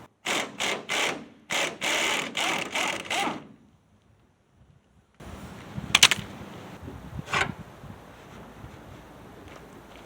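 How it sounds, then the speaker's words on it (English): Ratchet wrench working rusty bolts on a 1976 Ford F100 under restoration, heard as a quick run of rhythmic ratcheting clicks, then a pause, then fainter scattered mechanical clatter and a few sharp knocks, with no speech. "Trying to get these last bolts out."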